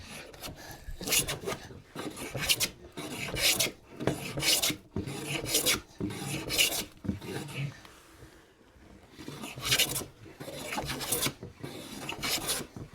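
Repeated rasping strokes of a hand plane shaving wood, about a dozen even passes in steady rhythm, close and fairly loud, with brief pauses between.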